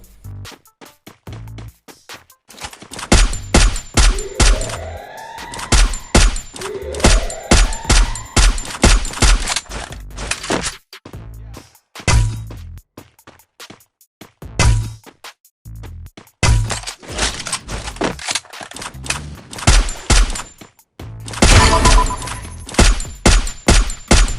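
Gunfire from the Free Fire video game plays as loud, rapid bursts and sustained volleys with brief gaps, dense and continuous throughout.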